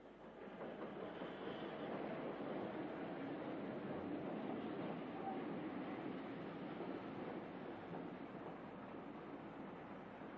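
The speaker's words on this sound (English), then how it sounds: "the daily through train from Wazirabad arrives behind an elderly British 440" A daily through train from Wazirabad rolls in behind an elderly British 4-4-0 steam locomotive built in 1900 for the North Western Railway, a steady, moderately distant rumble and wheel clatter with no voices.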